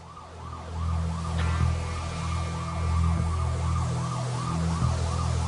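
An ambulance siren wails in a continuous rising and falling cycle over a steady low vehicle engine drone, loud and close with no talking.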